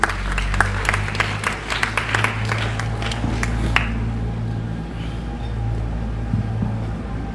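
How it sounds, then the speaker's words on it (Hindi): A crowd claps steadily in a large space at a school Republic Day celebration, dense applause rising and holding, with a low rumbling hum running underneath. "तालियों से स्वागत होना चाहिए"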